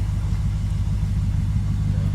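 Exhaust rumble from a Lexus GSF/RCF fitted with a new aftermarket exhaust, a steady deep low-pitched drone at moderate loudness with no voices over it.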